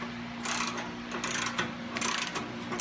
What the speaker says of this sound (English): tighten up the clamp.